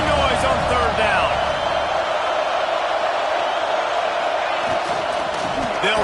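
A packed college football stadium crowd roars loudly and continuously on a third-down play, a dense, unbroken wall of cheering and noise with a commentator talking over it.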